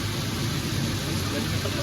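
Rain drumming on a car driving the Samruddhi Expressway from Pune to Nagpur, a dense, steady hiss of drops over low road rumble, continuous and close with no pauses.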